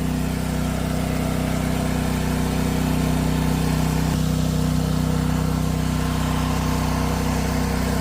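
A Husqvarna engine-driven sprayer, used to spray a copper sulphate and lime mixture onto nutmeg and areca palms, drones at a constant idle-like pitch, loud and unbroken with a faint shift midway.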